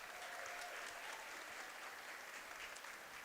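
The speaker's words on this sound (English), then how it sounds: "Give a big round of applause to our artists that are going to be here." Steady, dense applause from the audience at the opening ceremony of a national jigsaw puzzle championship, even and sustained throughout, heard from a distance at low level.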